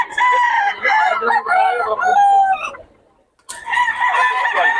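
A rooster crows loudly and close, one long cock-a-doodle-doo followed by a short pause and another crow, with clucking hens in the background.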